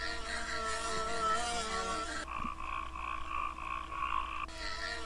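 Frogs croak in a dense chorus in the PC game Dinosaur Safari, with a layered trilling call switching to a repeated pulsing croak before the fuller chorus returns.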